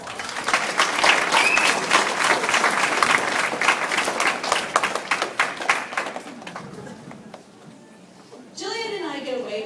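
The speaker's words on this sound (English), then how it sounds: "So let's give them a round of applause" Wedding guests applaud in a dense burst of clapping that fades after about six seconds, followed by quieter room noise and a brief stretch of talking near the end.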